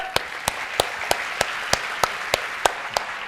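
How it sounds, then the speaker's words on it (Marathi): Sharp, evenly spaced claps ring out at a talk event in Latur, about ten strikes roughly three per second in a steady rhythm over a quiet room tone. "जोरदार टाळ्या."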